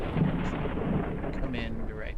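Thunder rumbles as a low, rolling roar during a storm in the Forever Skies video game, fairly close and sustained for a couple of seconds, with faint higher noises above it.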